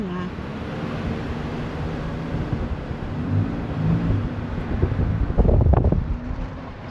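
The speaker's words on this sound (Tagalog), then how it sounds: "Mahangin." Steady outdoor wind roars and buffets the microphone for the whole stretch, loud and broadband, swelling toward the end with a few thumps.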